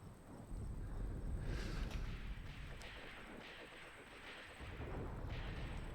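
Gunfire against enemy positions in the Graviteam Tactics battle around Kharkov, a faint, muffled sequence of distant booming shots and rumbling blasts rolling on continuously.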